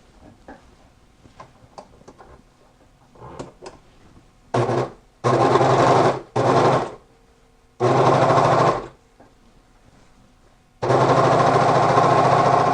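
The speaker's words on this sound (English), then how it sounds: "I have a serger, so I'm going to serge off the edge so it'll be a better edge on it." Serger sewing machine trimming and overlocking the edge of curtain fabric, running in several loud steady bursts of a few seconds each with quiet pauses between, the last run longest, no talk.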